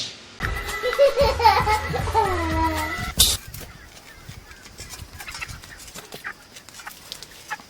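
Chicken crowing and clucking calls in the first few seconds, followed by a sharp bang and then quieter scattered rustling noises.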